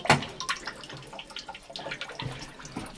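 Murky, contaminated water pouring into a drain, a steady splashing flow with an irregular, gurgling texture and a brief louder splash near the start, moderately close.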